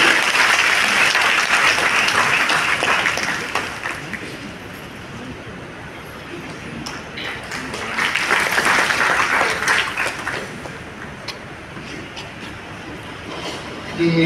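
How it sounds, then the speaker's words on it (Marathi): A church congregation at a feast-day Mass for Our Lady of Fatima in Chulne gives Jimmy a welcome with sustained applause. The clapping is dense and steady, dips to a lower level midway, then swells again and carries on to the end. "आपण त्यांचं टाळ्या वाजवून आणि पुढे पुढचे करून स्वागत करूया"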